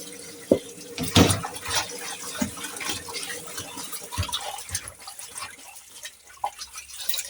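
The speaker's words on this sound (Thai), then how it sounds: "ครับเราก็จะมาล้างใบยานางนะครับ" Yanang leaves rinsed under running water, with splashing, trickling and dripping close by in a sink, plus a few louder handling knocks, no one talking.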